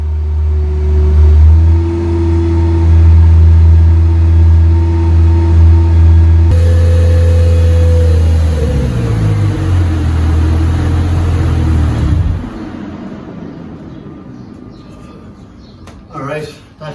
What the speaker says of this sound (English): now we can rev it at 2000 RPM for 2 minutes